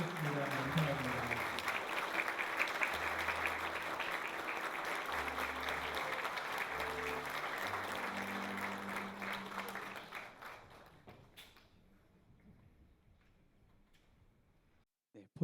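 An audience applauds at an honorary doctorate ceremony, with sustained dense clapping from a crowd that carries for about ten seconds before fading out, and a voice is briefly heard over it.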